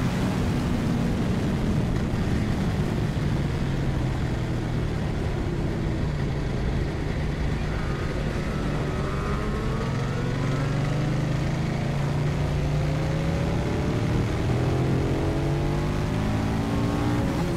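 KTM 1190 RC8 R sportbike engine droning loudly on a race circuit, a sustained high-revving roar with rising and falling pitch sweeps as it accelerates through gears, steady and close throughout.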